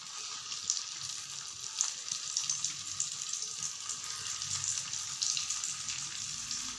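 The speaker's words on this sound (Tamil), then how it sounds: "இப்போ வந்து ஷேலோ ஃப்ரை மாதிரி பண்ணிடணும்" Pea and potato rolls shallow frying in oil give a steady close sizzle with faint popping and bubbling throughout, with no talking.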